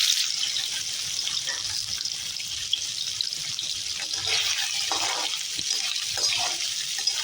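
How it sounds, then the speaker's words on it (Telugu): Paneer pieces sizzle in hot oil with a steady, bright, hissing crackle that holds throughout, close and fairly loud with no talk over it. "నూనె బాగా కాగిందండి. ఇప్పుడు వేసుకుందాం పన్నీర్ ముక్కలు."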